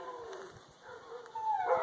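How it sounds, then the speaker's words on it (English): Several house dogs howl and whine together in drawn-out, wavering cries, with a sharper yelp rising near the end, fairly close and with no talking. "Can you hear my dogs going off?"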